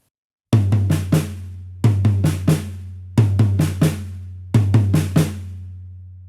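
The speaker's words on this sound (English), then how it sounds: "I'm going to see if I can split the single stroke 4 between the tom and the snare." Single stroke four drum rudiment split across a tom and a snare: four groups of four quick strikes, each group a rapid flurry of resonant hits with sustained tom ring, evenly spaced and played loud and alone.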